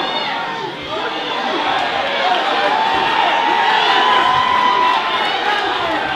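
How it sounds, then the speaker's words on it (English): Spectators at a Justin Gunter versus Kelvin Kibler fight cheer and shout in a swelling, continuous roar that grows louder toward the end, with a commentator talking over the crowd noise. "Crowd is getting excited."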